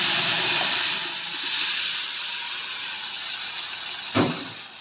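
Tomatoes dropped into a pan of browned onions give a steady close hiss that slowly eases, with a brief clatter near the end.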